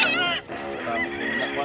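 Raspy, honking chicken calls on a farm in Bohol, loud and close, one drawn-out cry followed by more overlapping squawks.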